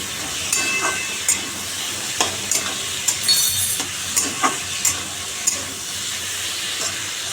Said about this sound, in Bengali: নামিয়ে দিলাম কুমড়ো ক্যাপসিকাম ভাজা কালো জিরে শুকনো লঙ্কা দিয়ে দারুণ হয় খেতে এটা